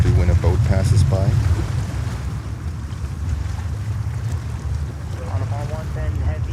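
Water laps at high tide while a boat passes along a New York waterfront, making a low, continuous swash mixed with wind rumble. Someone talks over it at the start and again near the end.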